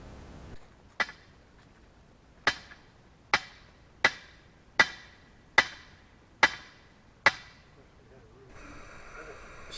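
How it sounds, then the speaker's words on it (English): Sharp hammer blows strike a stake, about nine spaced impacts with short ringing decay, then a faint scraping rustle at the end. "I get this started with my hammer"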